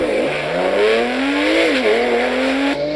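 A Porsche launching on a track, its engine note climbing steadily as it accelerates hard, loud and close throughout, with a faint tyre squeal and no voices.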